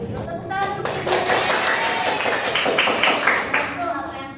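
A classroom of pupils claps for their teacher in a dense burst of hand claps lasting a few seconds, loud and close.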